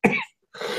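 Two close, loud coughs separated by a short pause of silence, the second rougher and more drawn out.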